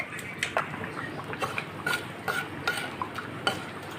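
Dry red chillies and panch phoron frying in hot oil for a mango chutney, a soft sizzle under a series of light clinking stirs against the pan, close and fairly quiet, with no talking.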